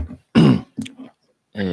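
Repeated throat clearing from a person recovering from coronavirus, three short rough bursts with pauses between them, close and fairly loud at an indoor talk.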